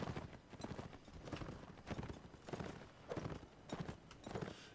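Horse hooves clip-clop in a steady walking rhythm across a Napoleonic Wars line battle in the video game, each pair of hoofbeats distinct and fairly close, with faint voices in the background.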